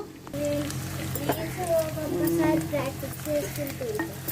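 Goat tripe with salt, turmeric and onions being mixed in a pan, a close sizzle with scraping stirs beneath a speaking voice throughout.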